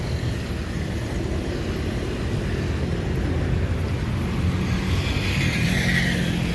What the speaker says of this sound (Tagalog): medyo traffic na masyado dahil uh, meron dito ano, mga palikuan kaya nagta-traffic dito